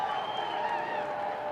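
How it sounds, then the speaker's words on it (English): Football stadium crowd at a South Florida at UAB college game, a steady roar of cheering and applause sustained throughout, broad and distant with no single voice standing out. "Crowd's engaged here"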